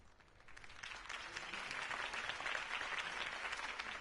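A crowd in the video game Batman: The Telltale Series applauds steadily, many hands clapping in a dense, continuous wash that swells slightly and holds without any talking.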